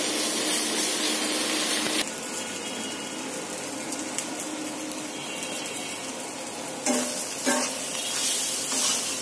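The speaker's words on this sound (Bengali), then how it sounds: "এটা আরেকটু ভাজবো।" Mashed beef for a bhorta fries in a pan with a continuous close sizzle, overlaid by repeated scraping and stirring strokes; the frying grows louder and busier toward the end.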